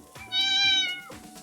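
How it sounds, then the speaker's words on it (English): A cat gives a single clear, drawn-out meow, close and fairly loud, rising and then falling, with a quiet background and no speech. "Got a cat."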